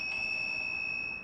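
A harsh, piercing electric bike horn holds a steady, shrill electronic tone for over a second before starting to fade, close and loud with no voices.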